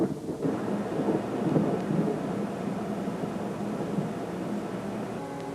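Thunder from a lightning storm rolls in a long, deep, continuous rumble alongside hissing rain, fairly distant and sustained over several seconds with no voices.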